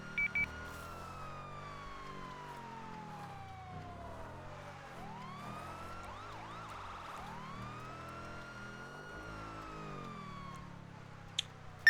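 A police siren in a GTA 5 roleplay game wails continuously, sweeping down in pitch and then switching to a rapid yelping pattern; loud and steady with no voices.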